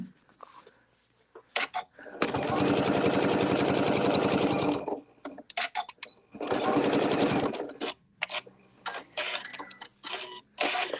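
A sewing machine stitches a quilted placemat during template quilting, running in two long steady bursts of rapid needle clatter with quiet pauses between and soft handling noises around them.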